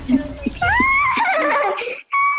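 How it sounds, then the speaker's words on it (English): A horse neighs loudly in the video game Fortnite, a long wavering whinny that rises and falls over about a second and a half and ends in a short snort, with game noise and voices nearby. "Sound like a horse."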